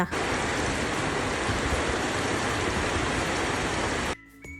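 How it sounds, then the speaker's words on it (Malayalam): Heavy rain pours outside in Kerala as a dense, even roar that holds steady for about four seconds, then cuts off abruptly. "മഴ ഇങ്ങോട്ട് തകൃതിയിട്ട് പെയ്യാൻ തുടങ്ങി"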